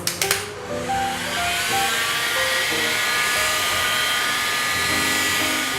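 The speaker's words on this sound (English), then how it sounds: "Immediately dry the product with a hairdryer or heat gun for 1 to 2 minutes." A steady, loud blowing whir of a hairdryer or heat gun running continuously, with a few short knocks at the start.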